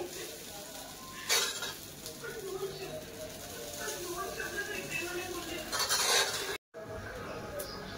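Tawa pulao being stirred on a large flat griddle, with sizzling rice under the metal scrape and tap of a spatula, a few louder stirring bursts, close up, with a person talking over it.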